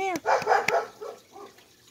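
A dog barks a few times at close range, short sharp yips in quick succession that fade into softer sounds, with a voice nearby.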